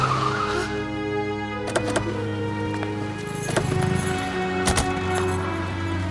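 A car braking to a stop, steady engine hum with a squealing tone and a few sharp knocks and clunks, loud and close throughout.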